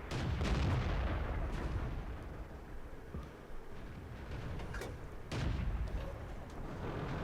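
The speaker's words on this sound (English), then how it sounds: "Nice shot, artillery." Artillery fire in the World of Tanks video game comes as heavy, rumbling booms. Two louder blasts at the start and near the end surround a sustained low roar of battle noise.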